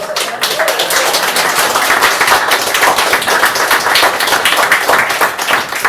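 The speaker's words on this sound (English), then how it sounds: "give Valentine one more round of applause" An audience at a creative writing reading event gives a reader a sustained round of applause, with many close, crisp hand claps blending into a continuous, loud patter for several seconds.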